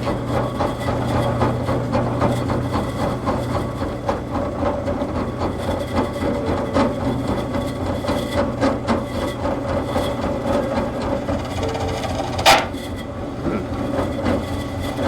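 A steady mechanical whir with rattling, uneven chatter throughout from a power drill boring into wood with a loose, untightened, wobbling bit, plus a sharp squeal near the end.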